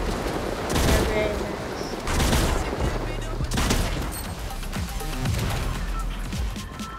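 Shotgun fire in the Fortnite video game, several loud booming blasts roughly a second apart over busy game sound effects.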